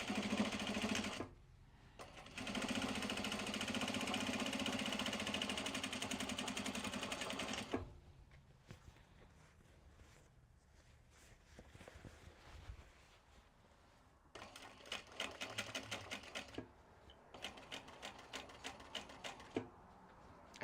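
A sewing machine stitches mini traveler slings in production runs, with one long steady burst of fast running stitches, a quieter pause with handling, then several short repeated bursts near the end.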